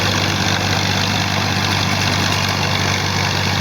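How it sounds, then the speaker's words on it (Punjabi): A Massey Ferguson 240 tractor works a 48-blade rotavator through stony field ground, its engine holding a steady, loud, low droning rumble throughout. "ਰੂਟਰ ਤੇ ਟਰੈਕਟਰ ਈਜ਼ੀਲੀ ਚੱਲ ਰਹੇ ਆ"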